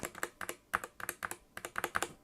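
Typing on a Skyloong GK75 mechanical keyboard with hotswap Gateron optical switches: quick irregular clusters of crisp clacks, about a dozen keystrokes in bursts, close and fairly quiet, no talking.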